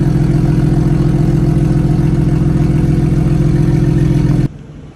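A BMW M240i with a titanium exhaust idles with a steady, droning low rumble close by for several seconds before the sound abruptly cuts off near the end.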